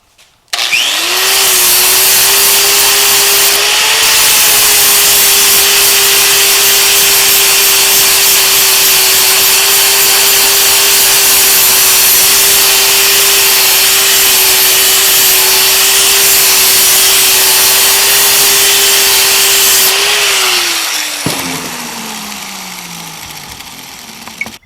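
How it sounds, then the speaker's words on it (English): A power sander grinds a mixed-metal bar made of at least five metals, a loud, steady whine holding one pitch for about twenty seconds, rising briefly near the start, then spinning down and fading out at the end. "I could hit it with the sander."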